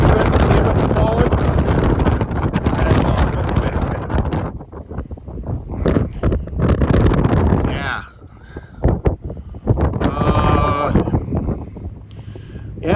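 Strong wind gusts buffet the microphone by a riverside, a loud roaring rumble that swells and drops away in bursts, with brief calmer gaps between gusts.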